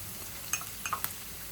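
Onion and garlic frying in a pan for dried laitta fish, with a steady soft sizzle and a few brief stirring clinks and scrapes, fairly quiet and close with no talking.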